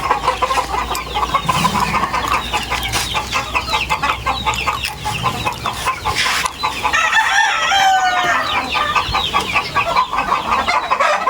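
White Kelso gamefowl roosters in a breeding area crow repeatedly and cluck, several loud calls overlapping close by and continuing throughout.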